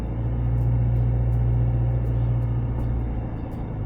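A 2025 Toyota Land Cruiser in permanent four-wheel drive climbs a slope, its engine giving a steady close-up hum with a strong low tone. It holds even throughout and swells slightly midway, with no talk.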